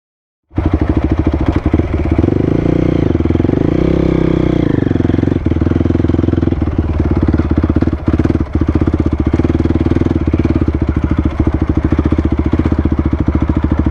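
A Honda CRF250R dirt bike engine idles loud and close, a rough buzzing drone with small revs and rattles throughout, no voices.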